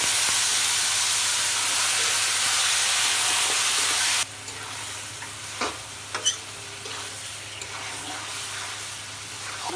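Beef pieces tipped into a pan of fried onion and garlic, crackling in a loud steady sizzle that drops abruptly partway through, then continuing more softly with occasional scrapes and clinks of stirring.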